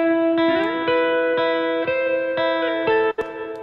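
A sustained, layered guitar chord loop rings out with heavy reverb, each strum blooming into a long washing tail, repeating in a steady pulse.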